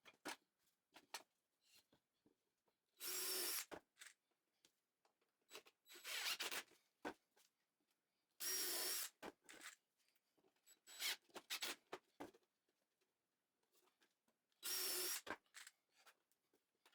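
A power drill drives screws into scrap plywood for a table saw jig, several short loud whirring bursts separated by quiet pauses and small handling noises.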